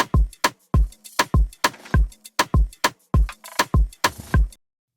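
Programmed drum groove with punchy kick and sharp rim shots in a steady, lightly swung pattern, close and dry, with no voices.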